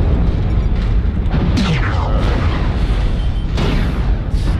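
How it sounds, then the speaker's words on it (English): Loud, dense enemy fire and explosions from MechWarrior Online fill the clip with deep booming blasts, sweeping whooshes and bursts that swell around 1.5 and 4 seconds, all heavy and close with no talking. "Did I just avoid a lot of enemy fire?"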